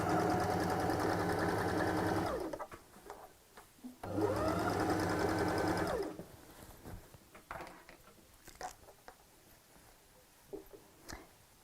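A sewing machine stitches a tote bag with pockets in two steady bursts of about two seconds each, then falls quiet apart from soft handling clicks and rustles of fabric.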